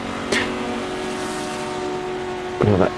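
Engine of a 1966 Daytona 24 Hours sportscar in a racing game, held at full throttle as a steady high drone, briefly masked by two short bursts of sound.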